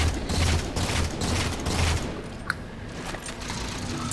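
Rapid gunfire in Halo 4 aimed at a Banshee, a loud sustained rattling fusillade with mechanical clatter, easing slightly after two seconds while combat noise continues.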